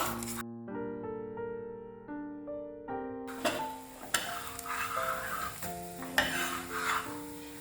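Yellow pumpkin adai frying in oil in a pan, a steady crackling sizzle building after a few seconds, with soft scraping and tonal music playing throughout.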